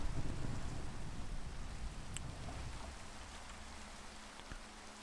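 Steady rain falls in a Minecraft game world, a dense even hiss that starts a little louder and slowly eases, with a faint distant rumble near the end.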